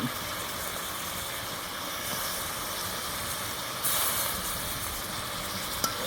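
Pabda fish drops into frying masala for a fish jhol, giving a steady hissing sizzle that swells briefly midway, with one sharp click near the end. No speech.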